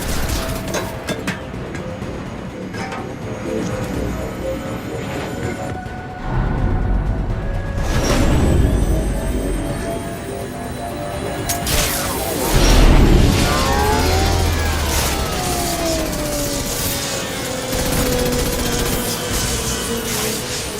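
Repeated gunfire bursts, sharp booms and heavy explosions in Mass Effect 2 Legendary Edition, loud and irregular, with whooshing sci-fi weapon effects and mechanical clanks between blasts.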